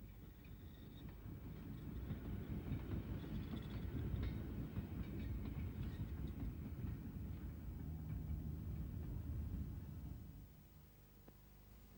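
A Brighton Terrier steam locomotive hauling a passenger train on a heritage railway in Kent rolls past, a rumbling, clattering roar that builds and then fades near the end, with no talk.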